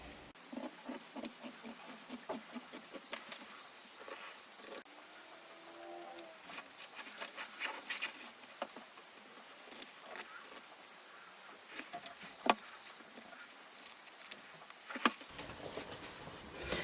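Scissors cut out a fabric pattern piece for a coat hanger zipped pocket, with soft, close snipping and rustling of the cloth that continues without talk and ends in a few sharper clicks.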